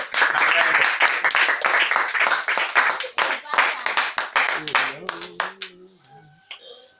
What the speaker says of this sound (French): Acclamons pour le Seigneur bien-aimé.